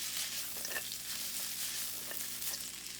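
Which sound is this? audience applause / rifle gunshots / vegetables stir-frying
vegetables stir-frying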